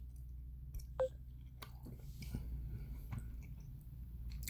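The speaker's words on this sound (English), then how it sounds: "I'm trying to chew this thing." Soft, close chewing of a cream-filled donut, faint wet mouth sounds over a steady low background hum, with no talking.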